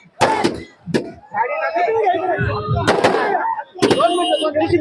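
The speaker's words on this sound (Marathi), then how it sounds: "जोरदार फटाक्यांच्या आतिषबाजीमध्ये त्यांचं स्वागत करण्यात येत आहे" Firecrackers burst at a celebratory welcome for Manoj Jarange Patil in Kopargaon, with several sharp loud cracks spaced a second or so apart while a voice talks continuously between and over them.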